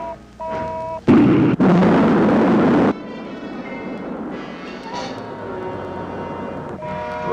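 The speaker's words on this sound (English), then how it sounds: "Rocket 1, second stage." Rocket second-stage firing as a 1958 science-fiction film sound effect: a sudden loud roaring blast that cuts off, a second sustained roar lasting about two seconds, then a lower steady rumble with tonal hums beneath.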